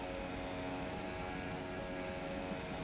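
A racing car engine screams at full throttle in a video game Formula-style race at the Belgian Grand Prix through Eau Rouge, a continuous, dense, steady high-revving roar with no pauses.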